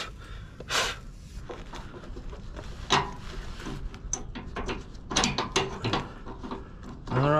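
A metal linkage is fitted onto a trailer with scattered clanks, ratcheting clicks and scraping metal knocks, close and irregular. Faint breathing noises sit between the sounds.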